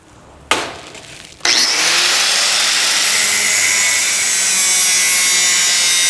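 An angle grinder cuts a metal pipe or angle: a short spin-up burst, then a loud, sustained, close high-pitched grinding screech that holds steady for several seconds.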